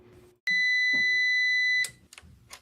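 Loud piercing electronic beep holding steady for over a second, followed by a few shorter clicks and faint rustling noises, close and harsh with no speech.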